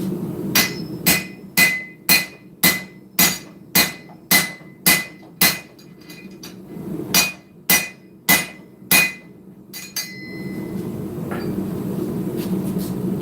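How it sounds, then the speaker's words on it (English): A hammer strikes steel held in a forging guillotine tool while a short spear is hand forged. About a dozen loud, close, ringing blows fall in a steady rhythm, with a short pause partway, then a few more strikes before it quiets to a low hum. "We're going to slide this into the guillotine about 1/2 inch to 3/4 of an inch in front of the end of it."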